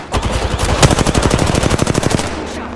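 Rapid automatic gunfire rattles in an Apex Legends match, a loud sustained burst of closely spaced shots lasting over two seconds before trailing off.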